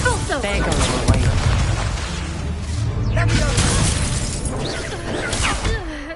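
A blast from the Expulso spell booms in Hogwarts Legacy, a heavy explosive burst amid crashing debris and whooshing effects, with a voice shouting over the noise.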